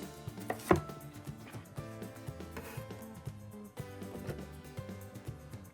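A knife chops sweet yellow pepper on a cutting board for a baby corn snack, soft repeated taps under background music, quiet and close.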